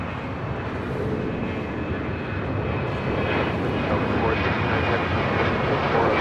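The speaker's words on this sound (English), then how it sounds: "Here we have Delta Airlines Flight 898 coming in from Atlanta, Georgia on a" A Delta Airlines Boeing 767-400ER jet arriving at LAX gives a steady, loud, broadband engine roar that grows slightly stronger as it approaches, with no talk.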